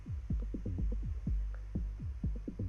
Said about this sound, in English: I've drawn some filters on my synth cutoff that look like this